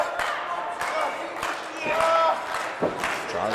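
Crowd noise fills the arena at a live pro wrestling match, a steady roar of voices with a few shouts rising above it, heard alongside bursts of announcer-style talk.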